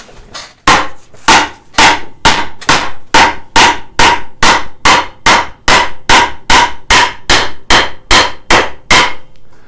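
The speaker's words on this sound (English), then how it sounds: "So I'm going to grab this little mallet, and with this, I'm going to drive it in." A small mallet drives a wooden half-blind dovetail joint together with about twenty sharp, evenly spaced strikes, loud and close, with no talk.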